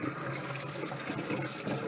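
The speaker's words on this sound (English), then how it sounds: "So I'm just rinsing them off really good here." Tap water streaming steadily over raw skinless chicken in a kitchen sink, a continuous close splashing hiss with no talking.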